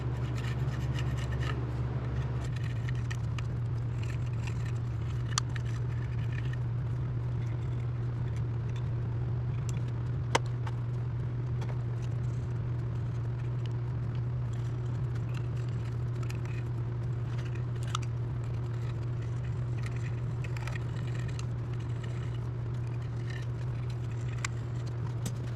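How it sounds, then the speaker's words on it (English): A scraper works old gasket material off the cylinder head of a Craftsman YT3000 riding mower engine, a faint, steady rasping and rubbing over a constant low hum. "Well, all that valve cover is drying, I'll scrape off the head here."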